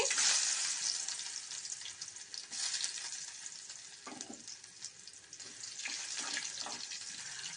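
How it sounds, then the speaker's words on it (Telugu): Ginger frying in hot oil for ginger chutney, giving a loud, steady, close sizzle. Occasional stirring scrapes and softer dips break it up, with no talking. "ఆయిల్ వేసుకోవాలండి. అల్లం వేసుకోవాలండి."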